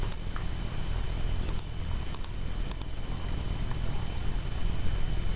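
A few light keystrokes on a computer keyboard as a Cisco switch port-security show command is typed, sparse clicks spaced apart over a steady background hiss, with no talking.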